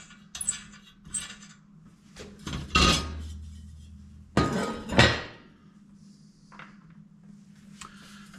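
Metal parts of a rusty vintage dual-mantle garage sale lantern being handled as its top comes off: scattered clinks and taps, a few louder metallic clanks and rattles, close by, with quiet gaps between.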